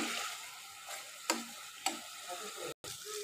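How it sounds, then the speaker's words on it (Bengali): Spices fry in a pan for a hilsa fish curry, a continuous close sizzle broken by a few sharp scraping stirs and a brief cut-out near the end. "মশলাটা বেশ ভাজা ভাজা হয়ে গিয়েছে।"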